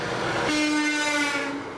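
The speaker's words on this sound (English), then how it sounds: "you heard a truck hitting the honk as it passed by you" A truck horn blares as the vehicle passes close by, one sustained honk that holds steady and then drops in pitch near the end, heard over a steady road rumble.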